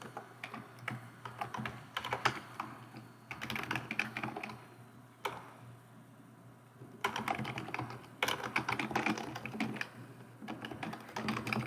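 Rapid clattering keystrokes on a computer keyboard come in dense bursts separated by brief pauses, close and clear, with no talking over them.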